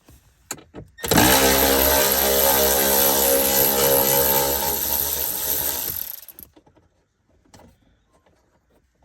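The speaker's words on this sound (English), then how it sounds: "Now I'm going to take a 10mm socket, and there should be 3 bolts." Ratchet wrench with a 10mm socket backing out bolts at the brake switch of a 2013-2017 Ford Explorer, a loud continuous clicking run lasting about five seconds up close, then a few faint scattered handling clicks.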